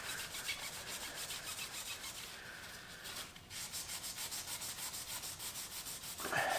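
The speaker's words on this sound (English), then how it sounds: "polishing the shit out of this rim. So spend a lot of time hand polishing it." A metal wheel rim is polished by hand, giving a close, steady rhythmic rubbing that repeats in quick even strokes throughout, with no talking.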